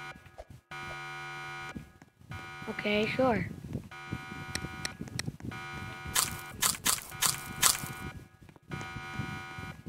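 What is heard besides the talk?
alarm going off in Roblox video game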